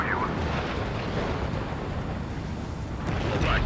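Missile launch and explosion in the combat flight game Ace Combat 7, heard as a loud, sustained roaring blast with rumbling, dense low end, steady throughout and swelling slightly near the end.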